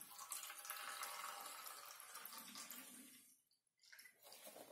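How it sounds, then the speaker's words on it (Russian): Water poured from a container into the wet-stone tray of an Elmos BG200 bench grinder, a steady splashing pour that briefly stops and then resumes, close by and fairly quiet. "поэтому надо воды налить"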